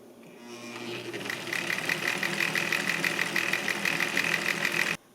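An antique Singer 319W sewing machine runs up to speed, its close, rapid whirring and ticking mechanism rising slightly in loudness and holding steady for about four seconds before stopping abruptly.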